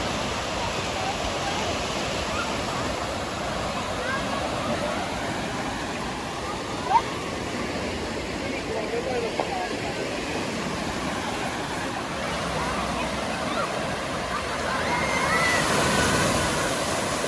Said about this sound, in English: Brilliant fun in there for the waves.